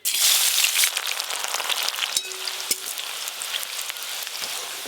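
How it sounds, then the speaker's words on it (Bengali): Sliced onions frying in hot white cooking oil for fish curry, a dense crackling sizzle that starts loud and settles into a steady spatter, close by with no voices. "তেল গরম হয়ে গেছে, এবার বেরেস্তা ভেজে নেব।"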